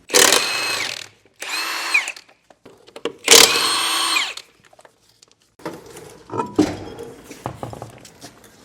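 A power tool whirring in short repeated bursts while a wheel comes off a trailer hub, loud and close, followed by quieter clanks and handling of metal parts.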